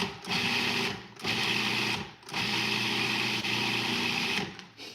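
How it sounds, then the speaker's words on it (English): A food processor pulses broccoli in short loud bursts, four whirring pulses of about a second each separated by brief pauses, close up and with no talk. "we're just going to pulse this in our food processor"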